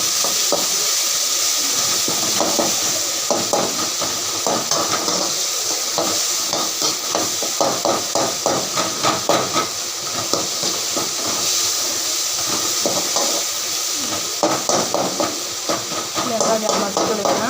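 Tomatoes sauté in a pan for chicken sukka, a steady hiss of frying broken by rhythmic scraping and stirring strokes, close and fairly loud throughout.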